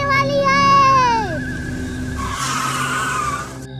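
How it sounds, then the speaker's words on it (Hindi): A car skids to a sudden stop with a loud, drawn-out tire squeal that bends downward and fades, followed by a rougher scraping screech, with a steady background tone throughout. "ये तुमने गाड़ी रोक क्यों दी अचानक?"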